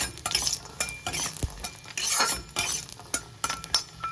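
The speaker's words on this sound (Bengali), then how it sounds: "একটু সরষের তেল দিয়ে ভালো করে লাল লাল করে বড়িটাকে ভেজে নেব।" Lentil dumplings (bori) fried in mustard oil in a karai, with scraping stirs, clinks of a utensil against the pan and a soft sizzle underneath, in irregular bursts.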